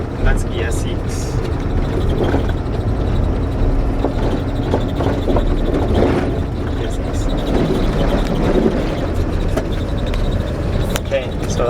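An Iveco truck with a manual six-speed gearbox drives in sixth gear, its engine a steady loud drone with road and wind rumble throughout.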